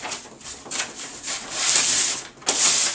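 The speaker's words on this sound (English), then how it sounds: "we're just going to hit it once with the sandpaper" Sandpaper rubbed in quick back-and-forth strokes over the edge of a wooden gaming table, close and steady, scratching rhythmically with slightly louder passes toward the end.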